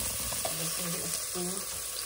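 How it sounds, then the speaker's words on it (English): Olive oil sizzling softly in a pan over lowish heat for a baked Greek vegetarian omelette, a steady low crackle with faint clinks and kitchen noise, no talk. "Oh, nice little bit of a sizzle, which is fine."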